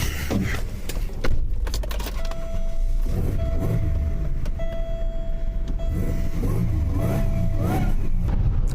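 A car engine hums and surges while driving, with road rumble, occasional revving and rattles from inside the cabin.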